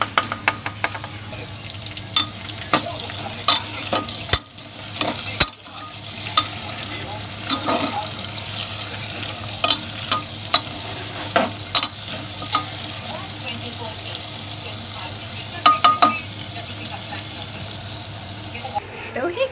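Onions for mutton do piyaza fry and get stirred in a pan, a steady sizzle broken by frequent sharp spoon clacks and scrapes, close and fairly loud.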